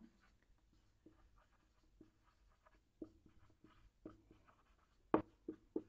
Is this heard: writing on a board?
yes